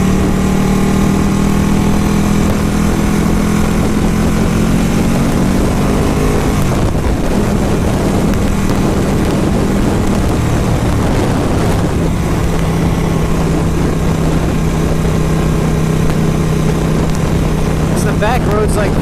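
A Ducati 1199 Panigale S superbike engine drones steadily while riding on back roads behind other traffic, with continuous wind rush and a brief shift in tone partway through.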